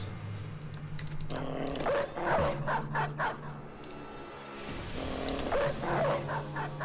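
Several dogs barking and yipping while fighting orcs in the video game Peasant Militia, repeated bursts of barks over low game sounds and clicking.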